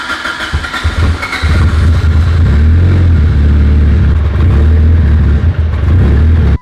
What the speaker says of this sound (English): Car fired up, didn't start the easiest.